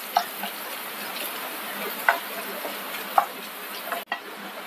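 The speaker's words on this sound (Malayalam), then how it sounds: "ഇനി ആ എണ്ണയിലേക്ക് നമുക്ക് കുറച്ച് കറിവേപ്പില ഇട്ട് വറുത്തെടുക്കാം" Curry leaves frying in hot oil for a masala kadala snack: a steady, even hiss of sizzling with a few isolated ticks and clicks as the leaves are moved.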